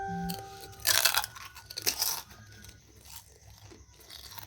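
Someone bites into crisp fuchka with two sharp crunches, followed by softer, quieter chewing close to the mic.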